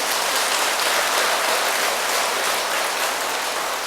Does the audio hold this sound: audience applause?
yes